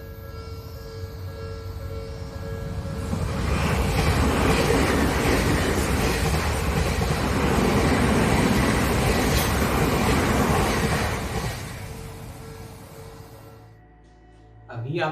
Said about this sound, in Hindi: जब वो गाड़ी पास आ रही होती है, तो उसकी आवाज़ पतली होती है